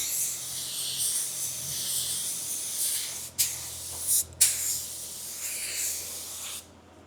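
A spray gun lays paint over primer on car panels, a steady close hiss that runs almost the whole time, broken by two brief pauses and cut off near the end.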